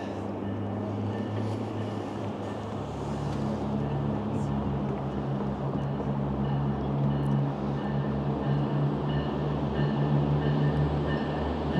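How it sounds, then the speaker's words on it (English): An UP Express train passing at a station, a steady loud rumbling roar with low droning tones that swells slightly toward the end, with no talk over it. "It's an up express train."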